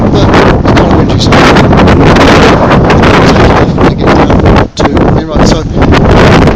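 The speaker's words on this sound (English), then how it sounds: "it's kind of windy" Strong wind on Lynch's Mountain in Ireland buffeting the microphone in loud, roaring gusts, with a brief lull midway and faint talking underneath.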